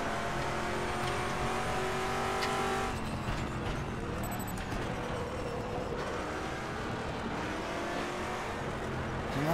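A race car locks its tires under braking in RaceRoom Racing Experience, with a loud, continuous engine roar and tire noise that shifts in pitch as the car slows and then drives on.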